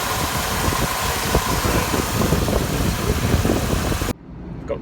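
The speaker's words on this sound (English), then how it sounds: "you can see the compressor is going round, which it wasn't originally" A car idles with its AC compressor running, giving a loud, steady engine rumble and whir close by, which stops abruptly near the end.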